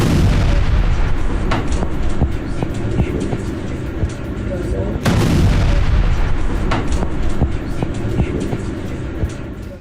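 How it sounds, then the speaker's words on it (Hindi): Explosions from Russian missile strikes on Kyiv: a string of heavy booms and sharp blasts over a continuous low rumble, with one especially strong hit midway and smaller cracks scattered throughout. "कीव में एक के बाद एक कई धमाके हुए हैं"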